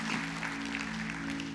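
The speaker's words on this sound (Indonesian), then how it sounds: "Berikan tepuk tangan yang meriah untuk Tuhan." A church congregation applauds in a steady, dense wash of clapping, with sustained musical tones holding underneath throughout.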